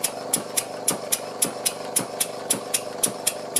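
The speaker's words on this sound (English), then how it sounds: "one beam engine." A Stewart model beam engine runs steadily, its piston fitted with a Viton O-ring, giving a close, regular clunking beat with bright ticking clicks about every quarter second over a continuous mechanical hum.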